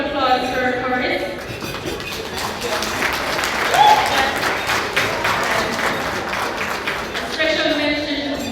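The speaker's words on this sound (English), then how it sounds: "a round of applause for Horace." A gala crowd at a school alumni anniversary dinner breaks into loud, sustained applause, dense and continuous throughout with voices mixed in beneath the clapping.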